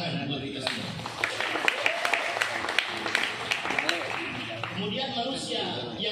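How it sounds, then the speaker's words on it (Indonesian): Audience clapping at an anniversary address for a Quran study unit of UIN Sunan Gunung Jati Bandung, scattered claps that build in the middle and then thin out, heard under a speaker's ongoing voice. "Tepuk tangan buat kita semua."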